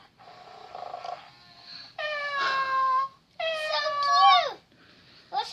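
A Little Live Pets Cuddles toy cat gives a string of electronic meows, several drawn-out tonal cries with short pauses between them, close and fairly loud.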